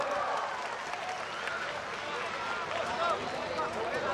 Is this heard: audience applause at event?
yes